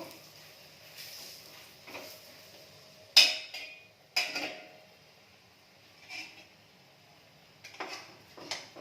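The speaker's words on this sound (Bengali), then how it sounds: "ভাজাটাকে একটু লাড়াচাড়া করবো।" Cauliflower pieces frying in a pan are turned with a utensil, giving intermittent metallic clinks and scrapes against the pan at irregular intervals over a faint low sizzle, close by with no talk.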